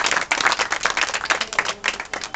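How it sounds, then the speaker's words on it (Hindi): Brief round of clapping from a small group at a political party outreach meeting, close and uneven with individual hand claps clearly separated in a quick rhythm. "जोरदार तालियां हो जाए"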